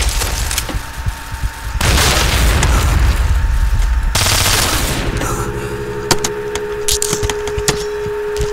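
Grenade blasts and gunfire in a shooter video game: loud booming explosions with long noisy rumbling tails, interspersed with sharp cracking shots and a ringing tone after the blasts.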